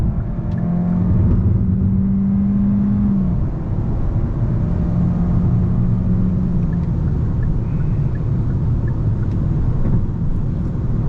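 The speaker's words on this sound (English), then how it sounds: "Full throttle." A 2024 Kia K5 GT Line, a car with a 2.5-liter engine option, accelerates at full throttle during a passing maneuver, a steady loud engine and road rumble with a rising tone, heard from inside the car.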